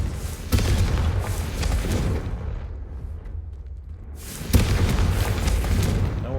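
Confringo fire spell blasts in the game Hogwarts Legacy, two heavy booming explosions with a deep rumbling tail, the second striking sharply after a brief lull, loud and close.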